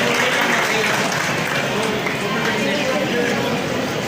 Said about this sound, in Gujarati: તાળીઓથી વધાવીશું આપણે જીલ આર્યને